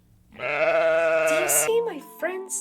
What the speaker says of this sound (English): This is the sound of sheep.